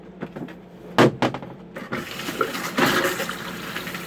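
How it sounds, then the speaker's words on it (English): An RV toilet flushes: a few sharp clunks, then a steady rush of running water that continues to the end, fairly close and without talk. "Let's check out the toilet, see how it flushes."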